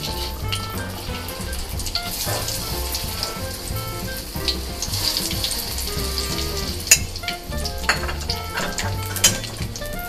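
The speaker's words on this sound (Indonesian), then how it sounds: "Caranya pertama, goreng tempe sampai matang." Tempeh frying in hot oil for sambal, a steady dense sizzle with occasional clinks of a utensil against the pan, close and continuous throughout.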